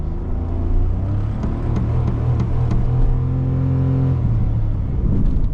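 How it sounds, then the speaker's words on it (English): A 2022 Mitsubishi Mirage engine hums and rises under acceleration in sport mode, a steady close-up drone with road rumble and no talking. "we can go into sport mode. Give us a little bit of better, more throttle response."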